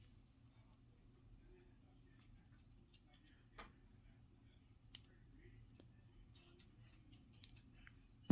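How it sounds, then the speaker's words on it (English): Scissors snip crochet yarn for a Christmas ornament, producing a few faint, sharp clicks spread over several seconds against a low, quiet room hum. "Cut your string."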